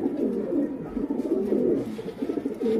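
Teddy pigeons, a fancy breed kept for sale in Lahore, coo steadily in a low, rolling murmur of overlapping calls, close and continuous with no one speaking.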